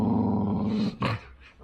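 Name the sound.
pit bull dog growling while wrestling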